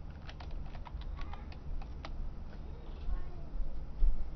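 Rapid, light keystrokes on a computer keyboard as an email and password are typed in, close and crisp in irregular bursts over a quiet background hum.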